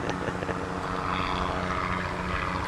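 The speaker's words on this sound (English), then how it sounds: "You hear the chopper?" Helicopter passing overhead a high school baseball game, a steady rotor and engine drone that stays loud and even throughout with no voices.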